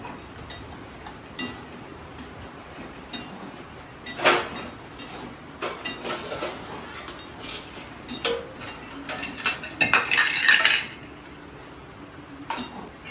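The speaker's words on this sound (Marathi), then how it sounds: "हे बघा मूग डाळ अशा प्रकारे भाजली पाहिजे." Moong dal dry-roasting in a pan, stirred with a utensil that scrapes and clinks against the metal in scattered, irregular strokes, close and fairly quiet with a busier burst near the end.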